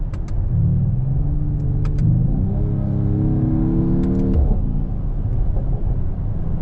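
A Mercedes-AMG GT 43 4-door coupe with 4MATIC+ driving, its exhaust droning loudly then rising in pitch as the engine revs up through a gear, with a few faint clicks on top.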